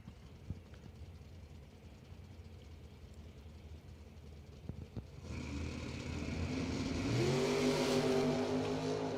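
Drag race cars, a '67 Camaro and a Beretta, at a drag strip: a distant engine rumble with crowd noise at first, then a loud, rising rev as the engines build toward launch.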